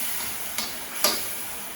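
Bits of garlic and ginger sizzle softly in a pan, a faint steady fry with two light taps of a utensil against the pan; no talking.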